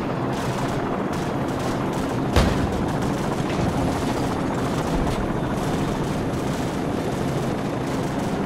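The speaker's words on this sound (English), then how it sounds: "Friendly helicopters entering the area." Friendly helicopters flying over a combat zone in the video game Call of Duty Modern Warfare, a loud continuous rotor roar with a sharp burst of gunfire partway through.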